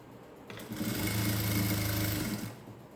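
A sewing machine stitches a cigarette-model pant with pockets, a steady rapid mechanical whir that starts after a quiet half second, runs loud and even for about two seconds, then stops.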